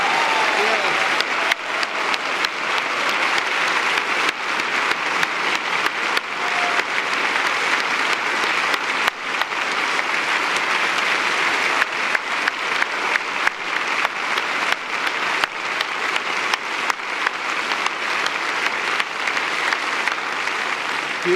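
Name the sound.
audience applause at town hall forum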